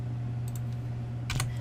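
A few soft keystrokes on a computer keyboard, including a brief cluster of clicks near the end, over a steady low electrical hum.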